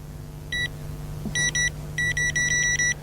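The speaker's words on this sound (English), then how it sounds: "Vitec Viper bite alarm." A Vitec Viper bite alarm on a carp rod sounds a run of sharp electronic beeps, first single then quickening into a rapid string, close and loud over a steady low hum.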